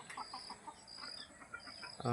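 Soft clucks from desi country-breed chickens repeat in short bursts at a moderate distance, with a louder rustle or thump at the very end.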